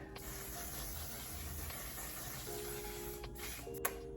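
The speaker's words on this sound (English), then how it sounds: "I'm gonna set my face really quick with this One Size mattifying waterproof setting spray." A continuous hissing spray of mattifying waterproof makeup setting spray onto a face, steady and close, lasting several seconds in an otherwise quiet space.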